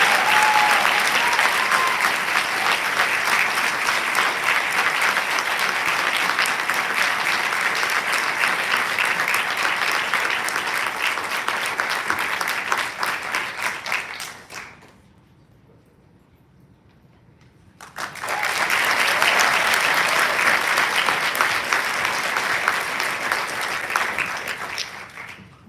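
An audience at an awards evening applauds the award winners: long, dense clapping that fades to near silence for a few seconds, then swells back up into a second full round.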